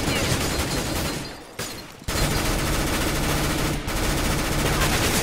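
Loud, sustained automatic gunfire in the video game CS:GO, dense rapid bursts broken by two short pauses, with a faint voice low beneath the shooting.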